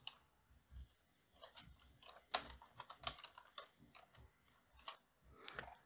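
Typing on a computer keyboard while entering text in a Word document, a quiet run of irregular key clicks in short bursts with pauses, close and alone.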